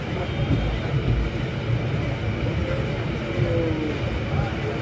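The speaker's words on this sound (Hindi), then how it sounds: "यार पता नहीं ट्रेन इतना स्लो क्यों चल रहा है पासेंजर ट्रेन है स्लो चलता रहता है" A slow passenger train on the Sealdah to Lalgola line rolls along with a steady low rumble and faint rattling from inside the carriage, moderately loud and continuous.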